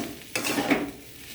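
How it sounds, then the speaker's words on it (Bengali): Chowmein noodles with an egg and vegetables being stirred and tossed in a pan with little oil, a close scrape and clatter over a soft steady sizzle. "দেখো, অল্প অল্প করে চাউমিনটা দিতে থাকবো, দিয়ে নেড়ে চেড়ে ভালো করে নেড়ে নেব"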